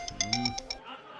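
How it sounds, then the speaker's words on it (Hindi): A telephone rings indoors with a bright electronic ringtone: six quick, evenly spaced pulses close to the listener, then it stops, leaving quiet room tone. "अब एक मिनट बेटा, किसका फोन आ गया?"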